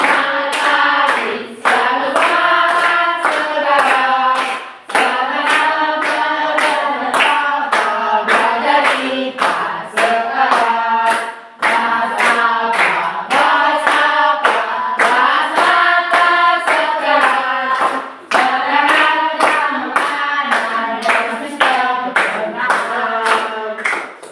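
An audience claps hands steadily and loudly for the whole stretch, a dense, continuous wash of applause with a few brief dips.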